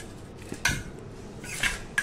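Ground cumin, salt, lemon juice and grated ginger stirred together in a bowl with a spoon, giving a few sharp clinks of metal on the dish against quiet scraping.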